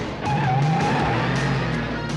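Company car in a 1991 movie trailer peels away with a sustained tire skid and steady engine roar, loud and continuous, with no voices.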